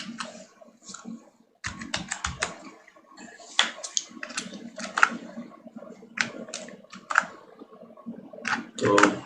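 Someone types an email address on a computer keyboard, irregular bursts of close, crisp key clicks with short pauses between them.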